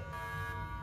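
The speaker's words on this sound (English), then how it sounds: "That's the alarm." A building alarm blares at an event where fire crews, police and security are responding: a loud, continuous buzzing electronic tone with steady harmonics, sounding alone throughout.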